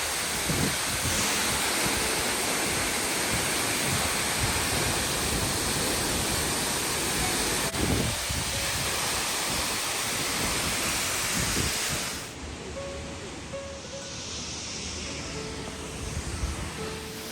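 Phangphangden waterfall in eastern Nepal roars in a loud, constant broadband wash of falling white water, close by and alone, then drops to a somewhat softer rush in the last few seconds.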